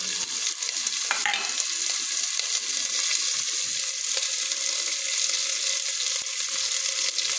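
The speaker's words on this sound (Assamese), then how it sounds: "পিঁয়াজখন অকণমান ভাজি ল'ম।" Onions sizzle loudly in hot oil with cumin seeds, a steady close-up hiss and crackle lasting the whole stretch, with faint stirring and no voices.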